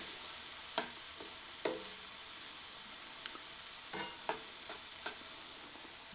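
Half a pound of hamburger meat frying with garlic in a pan, a steady quiet sizzle broken by several sharp scrapes and taps of stirring.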